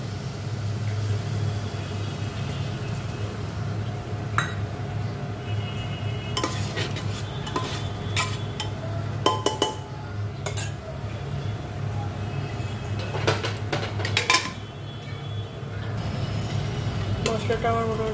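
Masala with tomato stirred and frying in a pan, a steady low sizzle under repeated spoon scrapes and occasional metallic clinks against the pan.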